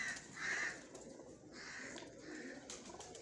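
Pigeons bred for high, long flights in Punjab give soft, faint calls outdoors, with a couple of brief louder coos amid quiet background ambience.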